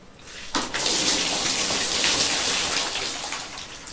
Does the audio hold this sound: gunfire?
no